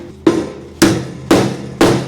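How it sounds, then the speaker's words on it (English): Hammer and dolly work on a car's inner fender apron for a 1962 Mercury Comet: four loud, evenly spaced metallic strikes about half a second apart, each with a short ringing tail, close and without talk. "we got some hammer and dolly work to do here"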